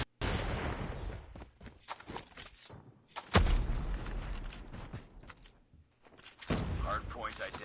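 A grenade explosion and gunfire in Call of Duty: Mobile, with a sharp loud blast partway through amid bursts of shots and clattering mechanisms, and a voice talking underneath.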